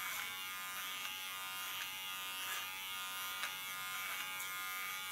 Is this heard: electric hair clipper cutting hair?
yes